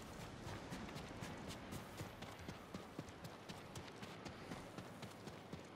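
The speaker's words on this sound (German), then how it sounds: "Aber auch ein braves Pferd, dass das genau da lang läuft, wo ich die Spuren verfolgen kann." Horse hooves in the Ghost of Tsushima video game, a steady, quick clip-clop of running hoofbeats that continues evenly throughout, fairly faint, with no speech.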